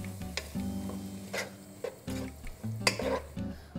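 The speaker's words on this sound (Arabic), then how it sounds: "منضيف حبتين طماطم مقطعين ومقشرين، ومنحرك لحوالي دقيقتين" Clattering stirring of peeled, chopped tomatoes in a pot with scrapes and clinks of a utensil against metal, over a low background hum.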